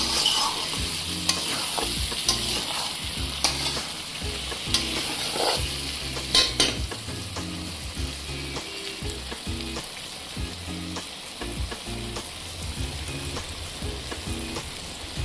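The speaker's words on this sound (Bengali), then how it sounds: "তেল ছেড়ে দিয়েছে, এবার একটু নেড়ে জল দিয়ে দেবো।" Gurjali fish and potato pieces coated in chilli powder and spices fry in hot oil as they are stirred. A dense, continuous sizzle runs throughout, with frequent scraping and knocking of the spoon against the pan.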